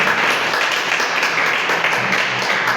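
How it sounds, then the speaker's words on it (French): A church congregation breaks into sustained applause for the Lord, a loud, dense wash of clapping from many hands, with faint voices mixed underneath. "acclame le Seigneur."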